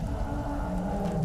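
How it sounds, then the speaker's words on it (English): Steady rainfall in the video game RuneScape Dragon Wilds, a dense even hiss of drops on surfaces filling the whole short stretch with no break. "Always raining here, and lots of lightning."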